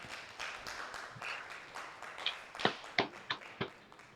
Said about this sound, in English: Can we clap again for Elena?